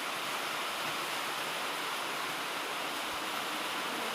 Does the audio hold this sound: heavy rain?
yes